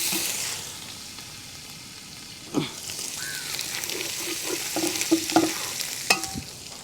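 Crushed ginger and garlic fry in butter in a pan while a spoon stirs them, giving a soft sizzle under scraping strokes and a few sharp clacks of the spoon against the pan toward the end.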